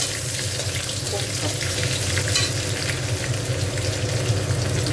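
Onions frying in hot oil in a pan for a mutton curry, a continuous crackling sizzle at moderate level with some clattering, bubbling texture.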